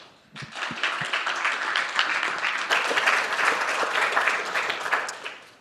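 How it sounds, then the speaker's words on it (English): Audience applause welcoming Daniel McCarthy as he takes the stage at the Linux.conf conference, a dense, steady roar of many hands clapping for about five seconds, starting with a few sharp claps before swelling and then stopping abruptly. "Please give him a big welcoming hand of applause"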